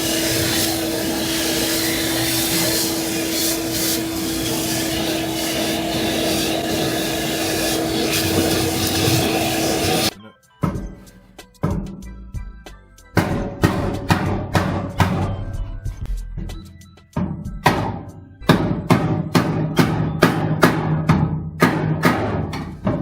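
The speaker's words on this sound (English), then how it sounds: "Let me just vacuum this out just a little bit more." A vacuum cleaner working around the fuel tank area of a 1971 Chevy Nova, a loud steady whine for ten seconds that then cuts off, followed by a run of intermittent clanks and knocks.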